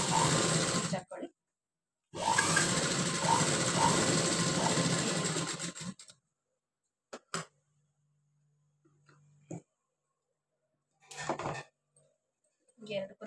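A sewing machine runs steadily for two stretches of stitching on a blouse's lining beside its canvas, then falls quiet, leaving only a few faint clicks and handling noises.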